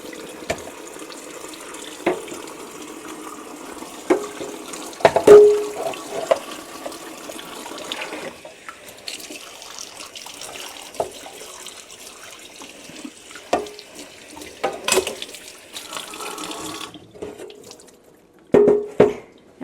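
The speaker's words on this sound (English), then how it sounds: "Then we're just gonna give that another rinse. And I'm gonna flip it and give the other side a rinse as well." A Harvest Right freeze dryer tray rinsed under a running tap: water streaming and splashing against the metal tray, steady and moderately loud, with intermittent clanks and knocks as the tray is turned.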